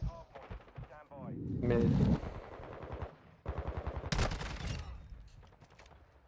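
Rapid automatic gunfire in a shooter video game, repeated bursts that are loud and close, with someone talking over the shots.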